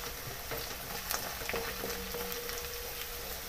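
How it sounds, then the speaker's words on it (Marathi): Fried bombil (Bombay duck) fish being stirred into onions frying in oil, a continuous close sizzle with light scraping stirs throughout, no voices. "आता मी त्याच्यामध्ये बोंबील टाकणार आहे जे आपण तळून घेतले."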